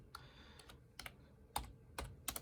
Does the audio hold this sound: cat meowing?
no